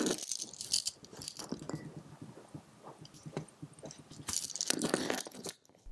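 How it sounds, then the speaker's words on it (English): Hollow center links of an older Rolex Explorer Oyster bracelet jingle and rattle in close, irregular bursts of bright metallic clinks, loudest at the start and again near the end. "The older bracelets make a sort of jingling or rattling sound coming from the bracelet."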